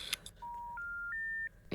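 Telephone keypad dialing: a short burst of clicks, then three steady rising tones in succession, each held about a third of a second, with a clatter at the end.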